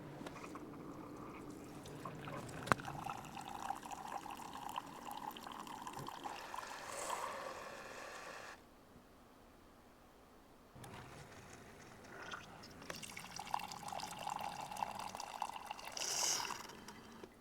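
Keurig Supreme and Duo Plus coffee makers brew side by side, a faint steady trickle and pour of liquid over a soft machine hum, dropping quiet for a couple of seconds midway before resuming.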